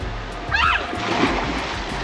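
Water splashes once as someone jumps from rocks into a Guatemalan river, a short burst of spray rising over a steady rushing current, with faint voices nearby.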